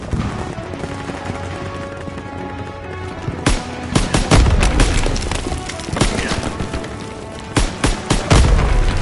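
Video game battle with an AA gun and heavy gunfire: loud bursts of rapid shots and booming impacts crowd together over a constant rumble, growing denser and louder toward the end.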